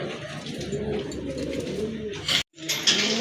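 Domestic deshi pigeons kept for sale coo in low, throaty, rolling tones close by, a continuous murmur that briefly cuts out near the end before resuming.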